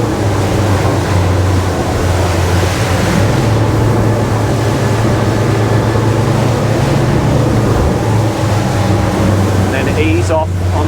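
An Aquila Molokai powerboat runs hard over ocean swells, its engines a steady loud drone mixed with rushing water and hull slap, continuous and close, with wind buffeting throughout.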